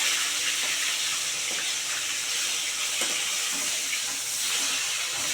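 Rohu fish sizzles in hot oil in a pan, a steady broadband crackle and hiss with a few soft clatters, close and continuous throughout with no voices.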